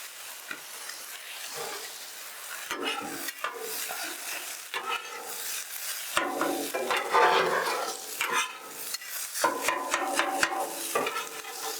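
Pork fried rice is stirred on a Blackstone flattop griddle, with a constant crackling sizzle and repeated scraping and tossing strokes of a spatula, close up and with no voices.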